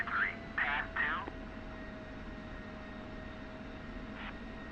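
An F-16 taxiing in a flight simulator game gives a steady, low engine drone throughout. Short bursts of radio voice come at the start and again near the end.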